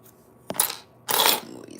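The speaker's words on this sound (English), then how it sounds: "Move these keys out of the way." Two short jangling bursts of keys being pushed aside on a surface, the second longer and louder, close and clear, with a faint voice murmuring around them.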